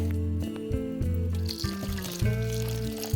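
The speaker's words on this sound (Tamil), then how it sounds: "கொஞ்சம் கொஞ்சமாக நான் தண்ணி சேர்த்துட்டு தோசை மாவு பதத்துக்கு நல்லா நான் வந்து கரைச்சி எடுத்துக்கிறேன்" Water is poured little by little into a ragi flour and moong dal dosa batter, giving a soft trickle that sits beneath loud, steady background music.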